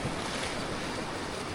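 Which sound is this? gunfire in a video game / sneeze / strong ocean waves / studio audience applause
strong ocean waves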